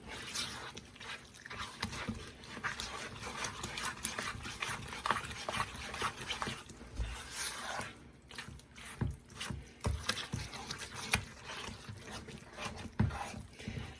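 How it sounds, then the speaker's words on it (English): A spoon stirs and scrapes the bottom of a large container of pistachio fluff salad made with pudding and nuts, giving continuous wet squishing and scraping strokes up close with no talking. "I always try to scrape the bottom of the container because you want to make sure, especially when you're making this much, that you're getting it all well incorporated"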